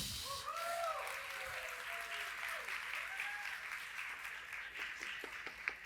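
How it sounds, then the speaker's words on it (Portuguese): An audience at a Brazilian library and heritage event applauds steadily for several seconds, a full wash of clapping with faint voices and a brief tonal sound near the start. "Uma salva de palmas para Diná Elizabeth."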